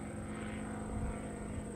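A 3DR Solo drone flies over an open field, its propellers giving a steady, even buzzing drone with a high whine, constant in loudness and fairly close, with no talk.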